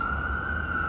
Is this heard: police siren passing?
yes